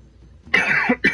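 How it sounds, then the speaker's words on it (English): A person coughs close to the microphone, a sharp, raspy burst followed by a second short cough about half a second later, after a moment of near silence. "sorry for the cough"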